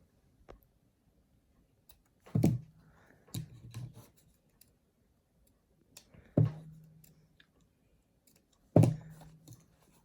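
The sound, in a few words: scissors cutting thread and knot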